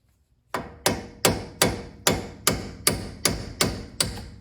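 A hammer taps repeatedly on a spinning bolt with its nut still on, driving it out of a motor mount on a Mazda / Ford Ranger 2.3; nine sharp, evenly spaced metallic knocks ring out loud and close, with no talking.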